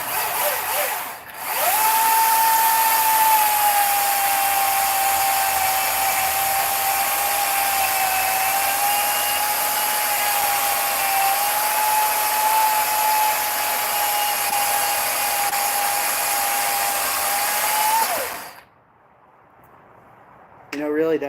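A small battery-powered chainsaw runs close and loud for about seventeen seconds, a steady high electric whine, then cuts off abruptly into near quiet.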